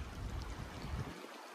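Creek water flows around heavy rocks at an inside corner of Gold Bar Creek in Alberta, a low close burble that cuts off abruptly near the end.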